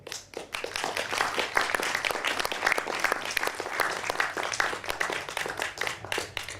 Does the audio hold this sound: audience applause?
yes